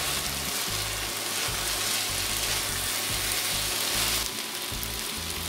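Carrots sizzling and frying in a pan for a fresh-cabbage and pork stew, a steady dense crackle with faint stirring, close and continuous without talk.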